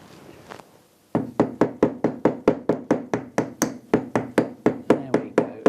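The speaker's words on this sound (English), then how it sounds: "I'm going to have to resort to Harry the Hammer there." Hammer knocking on a power drawbar cylinder during assembly of a DIY electro-hydraulic drawbar: after a short pause, a run of about seventeen sharp, evenly spaced metallic blows, close and loud.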